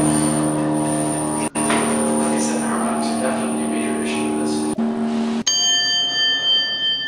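A vintage hydraulic elevator in a shopping mall sounds its arrival bell, a clear ringing ding with sustained bright tones near the end, after a stretch of steady cab hum and clunks.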